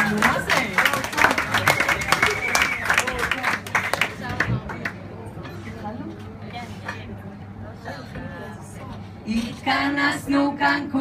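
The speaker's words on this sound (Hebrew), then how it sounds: "קבלו אותנו במחיאות כפיים" Audience clapping at a bar mitzvah celebration, a dense burst of applause that thins out over several seconds while voices and singing carry on above it.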